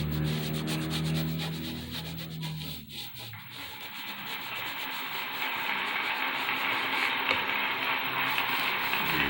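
Hand rubbing material into an artwork surface, a steady close scratchy friction that runs continuously, briefly easing then building again, with no talk.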